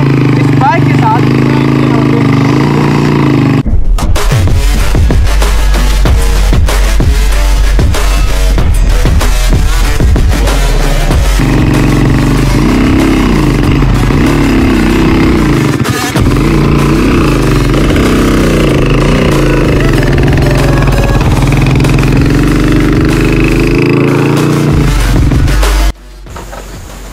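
A Honda 125 motorcycle towing a car revs hard and loud with a rough, rattling engine note that rises and falls, sustained for over twenty seconds before cutting off abruptly near the end; voices are heard in the clip.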